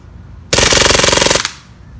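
A Beretta M9A3 CO2 BB pistol with blowback action firing full auto at targets: one loud, rapid burst of closely spaced shots lasting under a second, then a fading ring and quiet air.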